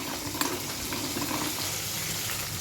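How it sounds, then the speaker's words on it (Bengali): Jackfruit seeds being stirred as they dry-roast in a hot pan, making a close, continuous dry crackling sizzle with faint scraping from the stirring and an occasional small pop. "এই যে শুকনো খোলায় নাড়ার ফলে এরকম কিন্তু ফেটে যাবে খোসাগুলো"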